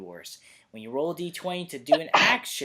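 A single sharp sneeze bursts out near the end, right between stretches of close conversational speech from people chatting at a tabletop gaming talk show.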